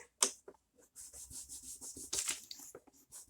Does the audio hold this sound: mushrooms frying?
no